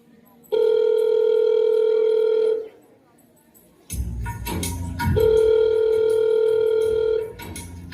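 A telephone ringback tone sounds in two long, steady rings separated by a pause, loud and close, with some background noise and a voice or clatter between rings.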